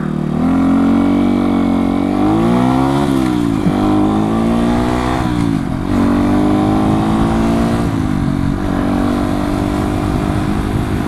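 A 125cc motorcycle with a Minarelli engine rides along, its engine note rising and falling as the rider shifts up through the gears into sixth, close and loud with no talk.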